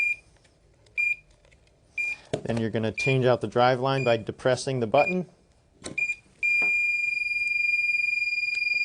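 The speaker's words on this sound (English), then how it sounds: "It's going to alarm." A medical device controller sounds repeated electronic alarm beeps during a battery changeover, starting as short intermittent tones and ending as a sustained steady alarm, with a person talking over the earlier beeps.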